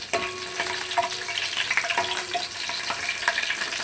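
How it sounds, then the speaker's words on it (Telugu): Green chillies frying in oil in a pan while fish curry is prepared: a continuous soft sizzle and crackle with occasional small pops and stirring clinks, close and fairly quiet. "తర్వాత పచ్చిమిర్చి బాగా ఫ్రై చేసుకోవాలి పచ్చిమిర్చి"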